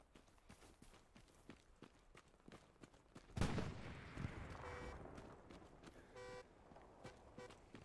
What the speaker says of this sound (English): Those honks are so loud.